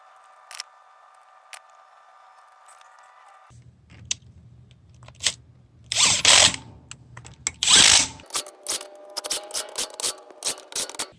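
Ratcheting and wrench clicks while ring gear bolts are torqued on a Ford 8.8 differential in a driveway, a quiet hum first, then sharp metallic clunks and a rapid series of short clicks, close and fairly loud.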